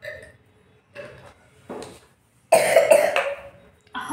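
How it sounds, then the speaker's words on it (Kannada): A person coughs several times: a few short, soft coughs spaced apart, then a louder, harsher burst of coughing before a final cough at the end. "ಕೆಮ್ಮು ಯಾಕೆ ಮತ್ತೆ ಬಂದಿ"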